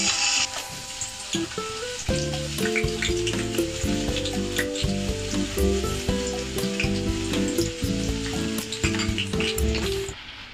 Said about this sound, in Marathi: कांदा गोल्डन ब्राऊन होईपर्यंत आपल्याला परतून घ्यायचा आहे.